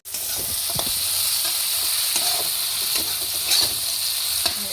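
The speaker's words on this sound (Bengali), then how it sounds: "হয়ে গেছে সিদ্ধ করা মটনটা দিয়ে দেবো" Boiled mutton frying and being stirred in a pan, a loud, steady sizzle throughout with scraping stirs and small clatters close by, no talking.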